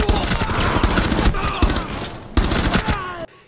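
Rapid bursts of gunfire in the Rainbow Six Siege video game, loud and dense, with several sharp volleys running back to back before cutting off near the end, and a voice faintly audible underneath.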